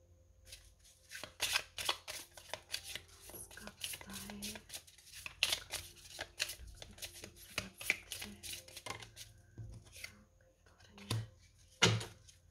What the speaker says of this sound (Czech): Tak, ještě si vytáhnu z těchto kartiček.